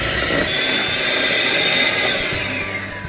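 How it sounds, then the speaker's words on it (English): An electric whisk beats coconut cake batter in a steady, loud whirring drone with a high motor whine, continuous and unbroken, no talking. "So we are going to be whisking now, so I'm going to be using my whisk."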